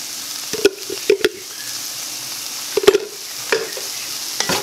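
Ginger garlic paste sizzles in a pan of meatless beef-style curry with a steady, close hiss, punctuated by several sharp clanks and scrapes as a spoon stirs it.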